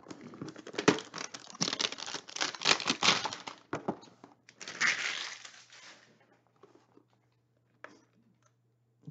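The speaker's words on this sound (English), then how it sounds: "use the loudest packing material in the history of ever" Plastic packing material from 2016 Panini Elite football hanger card boxes is crushed and crinkled loudly up close, in dense crackling bursts for several seconds that fade to a few faint rustles.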